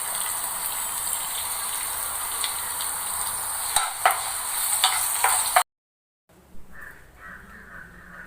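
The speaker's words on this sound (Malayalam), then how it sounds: "ഇനി നമുക്ക് രണ്ട് പച്ചമുളകും കുറച്ച് കറിവേപ്പിലയും കൂടി ഇട്ടിട്ടൊന്ന് വഴറ്റി" Green chillies and curry leaves sautéing in a pan for a dried bilimbi pickle, a steady bright sizzle with occasional stirring scrapes, cut by a brief silence before a softer sizzle resumes.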